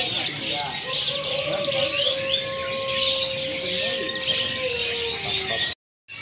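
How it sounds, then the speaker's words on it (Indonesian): A caged AF canary sings with sustained whistled tones and chirps, moderately close, over a busy bird-market background of many other birds and voices, ending abruptly. "Nah kalau ini ada kenari AF"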